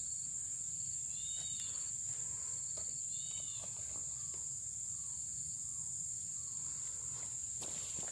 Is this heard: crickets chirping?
yes